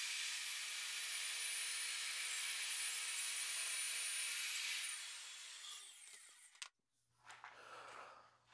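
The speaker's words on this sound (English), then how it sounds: "So I went down into my shop, cut these to length, just sanded them a little bit real quick." A power saw cuts wood pieces to length in a home workshop, a loud steady whine lasting about six seconds before cutting off, followed by brief quieter handling noises.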